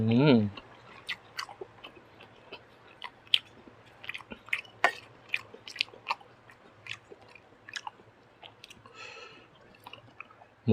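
Close chewing of crispy pork basil stir-fry: wet, crunchy bites and squishy mastication sounds come in irregular bursts, with a brief voice at the start and end.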